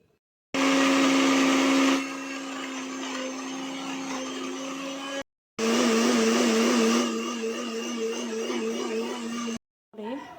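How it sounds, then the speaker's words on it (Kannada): A loud mixer grinder whirs steadily grinding coconut masala in two long bursts separated by a short pause, with a brief restart at the end. "ತೆಂಗಿನಕಾಯಿ ಜೊತೆ ಹಾಕ್ಕೊಂಡು ಮಿಕ್ಸಿ ಮಾಡ್ಕೊಳ್ಳೋದು ಗ್ರೈಂಡ್ ಮಾಡಿಕೊಂಡ್ರೆ ಮಸಾಲ ರೆಡಿ ಆಗುತ್ತೆ"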